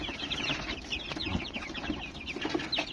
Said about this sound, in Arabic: ودي طبعا كتاكيت العسالات اللي جايب لهم الاسبوع اللي فات دول